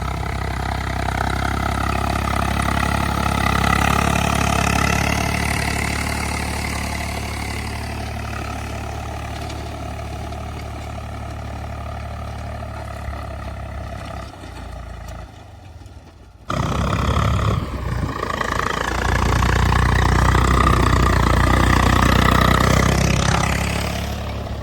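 A new farm tractor's diesel engine runs in a village field, giving a loud, continuous, rumbling drone close by that dips for a moment midway and then resumes at full strength.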